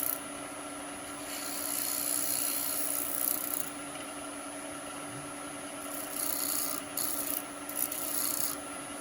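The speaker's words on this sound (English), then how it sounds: "turn the speed down a bit for sanding" Soft, continuous rubbing and rasping of sandpaper on maple spinning on a lathe at reduced speed, steady with slight surges, over a constant machine hum.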